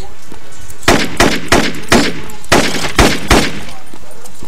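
Bursts of gunfire from the shooter video game U.S. Most Wanted, about eight loud, sharp shots fired in a quick, slightly uneven volley, close and dominant, with no talking over them.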